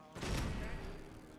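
Gunfire in the video game Fallout 4 sounds as a short, close burst of shots that swells and fades over about a second.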